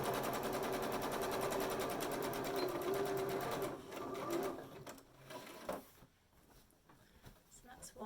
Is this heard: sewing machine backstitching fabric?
yes